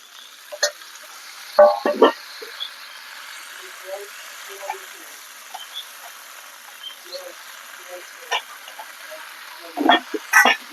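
Vegetables with ginger paste and ground cumin being stirred and fried in a pan, with scattered soft sizzling, scraping stir strokes and a few louder clatters spread across the stretch.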